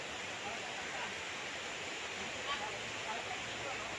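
Steady broadband rush of river water flowing beside a farm lot in Liliw, Laguna, a continuous even wash with no distinct splashes, fairly soft and close.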